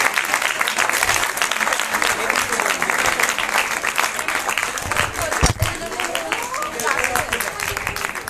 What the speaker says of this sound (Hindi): तालियां बजाते रहिए इनके लिए।